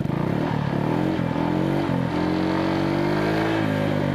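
A motorcycle fitted with a racing exhaust revs in a continuous, close and loud engine drone with repeated rises in pitch as the throttle is blipped.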